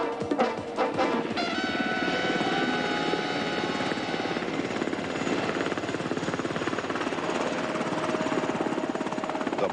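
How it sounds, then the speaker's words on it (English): Black Hawk military helicopters flying, a loud, steady rotor roar with a pulsing chop and a whining turbine tone that holds close and continuous throughout. "Blackhawks bearing the mission commander and his advance party remain at the landing zone only long enough to deliver their passengers"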